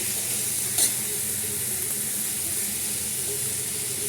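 Spices frying in a pan while cooking Bengali chicken kosha, a steady close sizzle and hiss with one brief clink near the start, no voices.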